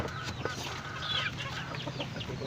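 Young roosters (stags) being kept as pets, clucking softly in short, scattered calls at fairly close range over a low steady background hum.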